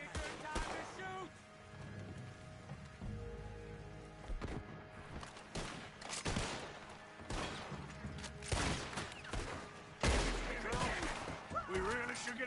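Gunfire in Red Dead Redemption II arrives as several sharp, scattered shots and bursts over rain-like patter and clatter, with a person talking between the blasts.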